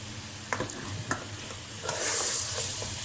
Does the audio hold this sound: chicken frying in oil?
yes